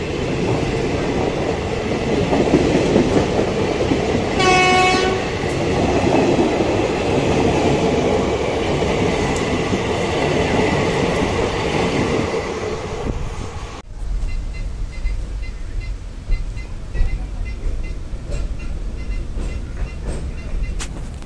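Passenger train travelling out of a junction on a Kanniyakumari to Trichy route, a steady loud rumble of wheels on track throughout, with a brief squeal partway and a change in tone near the end.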